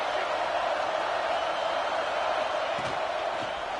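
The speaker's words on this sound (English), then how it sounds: "the Buckeye crowd alive on third down" An Ohio State Buckeye football crowd roars during a third down against Texas A&M, a dense, loud wall of stadium noise that holds steady from start to finish.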